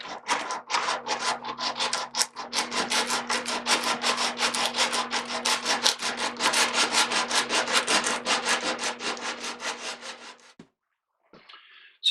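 A mandolin neck being sanded with 60 grit sandpaper, steady rhythmic back-and-forth rubbing strokes on wood, close and continuous for about ten seconds before stopping.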